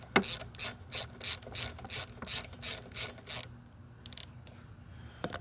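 A hand ratchet fitted with a 5/8 socket works loose the spark plug on a Bolens 21-inch push mower, giving a run of quick, close clicking strokes that stop, followed by a few faint metallic taps.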